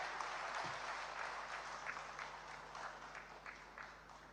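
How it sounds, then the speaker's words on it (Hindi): An audience claps to welcome Governor Rajendra Vishwanath Arlekar at a Mann Ki Baat 100th episode event, a sustained, fairly distant wash of applause that slowly thins out, with a faint hum underneath. "तालियों से पुनः एक बार स्वागत"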